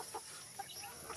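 Heritage chickens cluck faintly in their pen, a few soft scattered calls over steady background hiss, with no talk.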